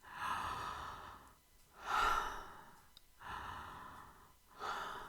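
Slow, deep breathing during a jaw release exercise, with three or four long audible inhale and exhale cycles, close and fairly quiet, and no talking.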